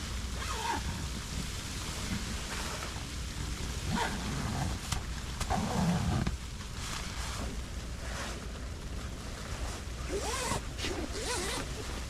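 A zipper on a panel of a Eureka El Capitan 2 three-season tent is pulled closed in several short rasping strokes, outdoors in wind and rough weather.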